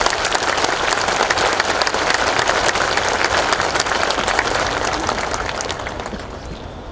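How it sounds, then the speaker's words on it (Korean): Audience at a Korean state ceremony applauding for bereaved families, a dense, steady wash of many hands clapping that carries on throughout and slowly fades toward the end. "여러분, 이분들께도 따뜻한 위로의 박수를 부탁드립니다."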